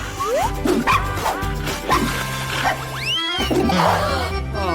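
Dogs barking and yipping on a TV show about dogs, several quick close barks in irregular bursts with a few whines, loud and busy throughout.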